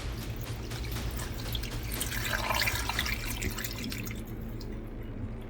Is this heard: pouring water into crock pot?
yes